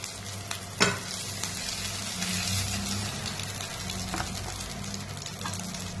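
Tilapia fish fries in hot oil with a continuous dense sizzle. A brief louder spatter comes early, and the crackle stays steady throughout with no voices.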